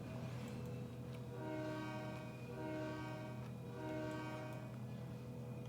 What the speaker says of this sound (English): check out why it is that there's so much flange action on these tracks